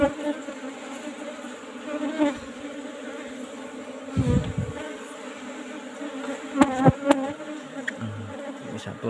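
Apis cerana honeybees buzz steadily around an old-style wooden hive box as comb is cut out during a honey harvest, with occasional knocks and handling noises rising over the continuous drone.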